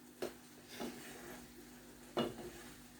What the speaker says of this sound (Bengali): কাসকিটা নেড়ে দিলাম